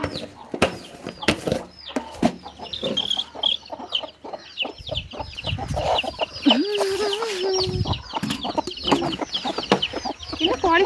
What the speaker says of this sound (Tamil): இருங்க காட்டுறேன் கோழியை சரியா ஒரு நிமிஷம்